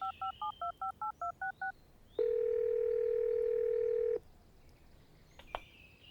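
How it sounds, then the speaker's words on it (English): A phone being dialed, with about nine quick beeping keypad tones in even rhythm, followed by a steady two-second tone as the call goes through, close and clear over faint background hiss. "Call Alex from your phone"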